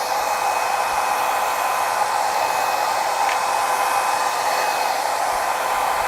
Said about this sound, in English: I'm gonna go back in with my dryer for the last time